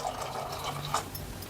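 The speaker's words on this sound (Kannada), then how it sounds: "ನೀರು ಹಾಕೋತಾ ಇದ್ದೀನಿ" Water pours steadily into a cooking pot of jackfruit seed sambar, a soft, continuous trickling and splashing heard alone and fairly quiet throughout.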